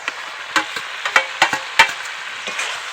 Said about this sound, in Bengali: এখন এর মধ্যে ভেজে রাখা আলু ও ক্যাপসিকামটাকে দিয়ে দেবো